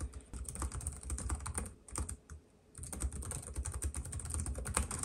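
Continuous typing on a Lenovo ThinkPad TrackPoint Keyboard II, dense close-up key clatter that breaks off for about half a second midway, then resumes at a brisk, even pace.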